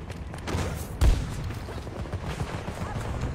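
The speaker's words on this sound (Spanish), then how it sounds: "¿Pero por qué me disparas si soy tu amigo?" Gunfire in the video game Battlefield, with a muffled burst of shots and a sharp thump near the start amid ongoing low, dull battle noise, fairly quiet overall.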